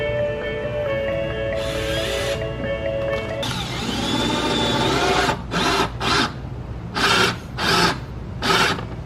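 A drill bores into a G35 side splitter with a rough, rasping whir, first as a long steady run and then in several short, loud bursts separated by brief pauses.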